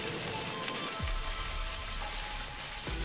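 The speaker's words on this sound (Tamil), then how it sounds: "எல்லாம் போட்டு நல்லா வதக்கிக்கிங்க." Small onions sautéing in a pan for chicken chukka, a steady close sizzle and crackle with occasional stirring scrapes, no talking.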